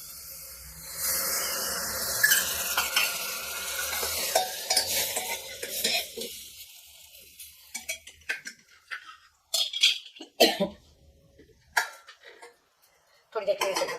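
Spices sizzling and frying in a pan with jackfruit as a utensil stirs and scrapes through them, clinking metal pans and cutlery in an intermittent rhythm with quiet gaps, close and moderately loud.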